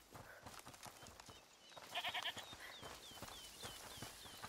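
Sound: goat bleating in A Plague Tale: Requiem video game

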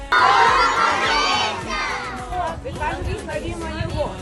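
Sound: children shouting together

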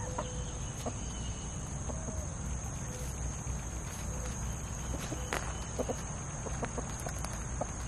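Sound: chickens

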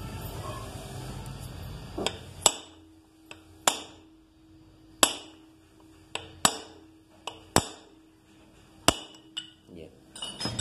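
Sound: lightly punching a Honda main stand pin

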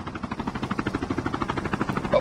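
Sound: helicopter in a video game

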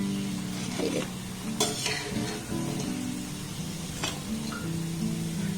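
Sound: pakoras frying in oil

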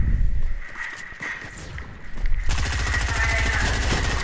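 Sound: gunfire in Fortnite video game

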